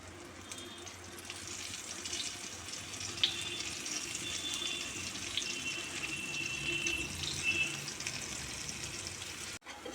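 Batter-coated onion rings fry in hot oil with a steady, soft sizzle and faint crackling pops, fairly quiet and continuous with no talking.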